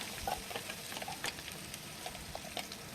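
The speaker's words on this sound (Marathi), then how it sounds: "त्यानंतर या सर्वांना छान असं मिक्स करून घ्यायचं आहे" A spoon scraping and stirring a coconut paste mixture with turmeric powder in a pan for coconut chutney, soft sizzling and irregular light scrapes and taps close by, fairly quiet and without talk.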